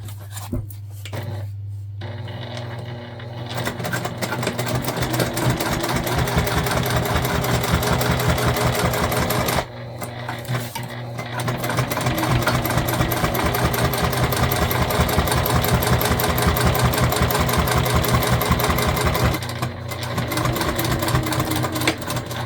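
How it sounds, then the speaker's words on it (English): A sewing machine top stitching the side panels of a multi-panel tote bag runs in long, steady bursts with a fast, even mechanical hum and rhythmic needle clatter, close up and moderately loud, pausing briefly between stitching runs. "we're just gonna come through and top stitch down our side panels on both sides"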